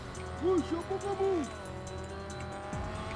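A strong car in a video game drives with a droning engine and a couple of loud rising-and-falling tire squeals near the start, then settles into steady motor noise.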